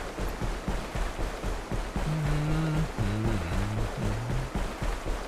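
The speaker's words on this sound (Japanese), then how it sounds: "エンジン始動。" Boat engines start up in the Grendizer video game, a steady broadband rumble and wash of water with low tonal engine hums rising and stepping in pitch partway through, continuous and fairly loud throughout.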